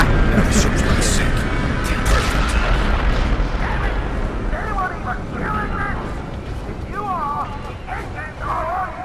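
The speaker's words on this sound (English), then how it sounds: "Now the ship's blowing up." A ship exploding in Dead Island Riptide, a loud rumbling blast roar sustained throughout, with a voice talking over it and shouting later.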